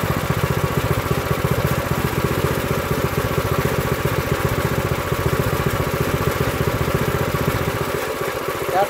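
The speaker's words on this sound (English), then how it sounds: "we're going to turn the speed down to turtle. So that's idle speed," An Earthquake Victory rear tine tiller's engine runs at low idle speed, a steady, close, even chugging that holds throughout with no change in pace.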